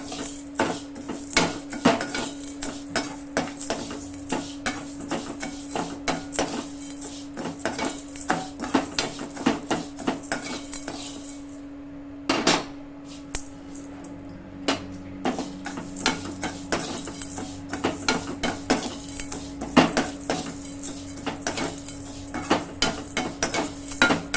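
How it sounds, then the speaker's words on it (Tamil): Lentils and rice are dry roasted together in a pan for paruppu payasam, with a spoon scraping and clinking against the metal in a steady, close rhythm. The stirring pauses briefly partway through, and there is no talking. "நான் மூணுத்தையும் ஒன்றா போட்டு நான் வறுக்கிறேன்"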